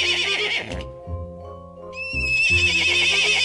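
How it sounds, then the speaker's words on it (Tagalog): Horse neighing and whinnying loudly in two bursts with a pause between, set against a low rhythmic background. "Horse."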